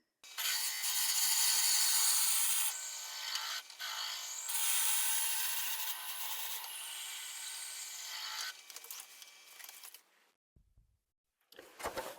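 A Morse-taper twist drill bores into dry walnut on a lathe, giving a loud, continuous abrasive rasping hiss that shifts slightly in tone and then stops, followed by a few faint knocks.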